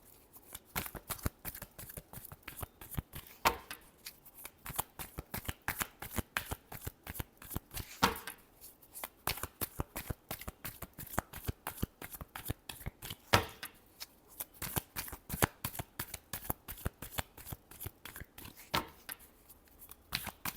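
Tarot cards are shuffled by hand in quick, crisp riffling bursts, a run of soft rapid flutters repeating close and quiet with short pauses between.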